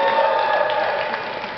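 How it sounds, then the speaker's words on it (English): A crowd at a speech cheers and applauds for the crew of the TV show Run the Burbs, a dense sustained roar of voices and clapping that eases off slightly toward the end. "Make some noise if you were on the crew for Run the Burbs."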